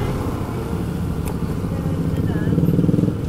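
A large group of motorbikes, some carrying two riders, rides together through a village on Independence Day, a steady rumbling engine drone that swells slightly near the end, heard with no speech over it.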